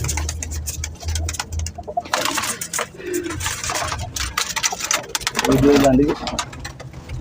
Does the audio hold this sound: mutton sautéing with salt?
no